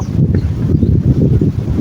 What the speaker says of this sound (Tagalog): hangin-hangin po diri jutay